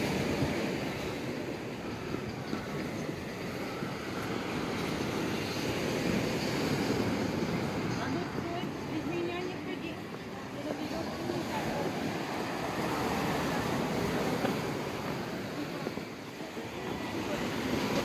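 Waves break on Massandra beach in Yalta, Crimea, in winter. Surf washes in as a steady, fairly soft rush and roar, mixed with wind buffeting the microphone.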